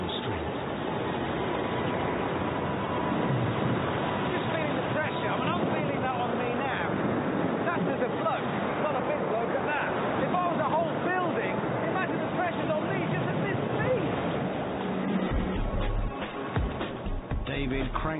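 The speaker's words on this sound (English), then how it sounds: "70 kilometres an hour, that's gale force strength" Gale-force wind at an ocean airport roars in a loud, continuous blast that buffets the microphone, with rumbling gusts under a voice speaking over it.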